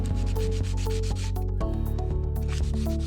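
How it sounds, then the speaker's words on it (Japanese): Sandpaper rubs back and forth over hardened filler on a solid wood floor, a continuous gritty scraping held under steady tonal background music. "硬化後、サンドペーパーで削って平らにします。"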